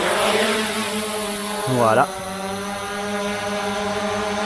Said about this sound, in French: On va décoller, on arme les moteurs, tiens je vais décoller automatiquement